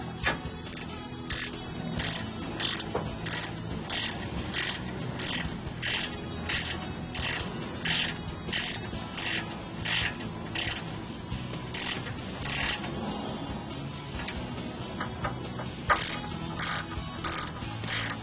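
A hand socket wrench ratchets steadily while tightening a brake caliper bolt during a front disc pad, rotor and caliper replacement, a close, rapid series of rhythmic metallic clicks lasting throughout.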